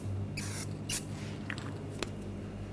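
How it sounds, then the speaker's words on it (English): A few short hissing bursts from an aerosol can of copper anti-seize sprayed on bolts, quick spritzes separated by pauses, close by and fairly quiet. "spray a little copper anti-seize"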